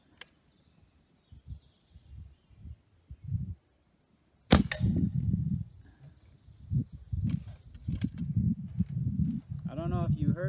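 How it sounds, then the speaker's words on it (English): A Stoeger A30 air rifle fires a Gamo Match 7.56 grain pellet that jams the piston, producing a single sharp, loud crack after a few faint handling clicks, with someone talking before and after it. "the pellet jammed up the thing so bad that the piston kind of went"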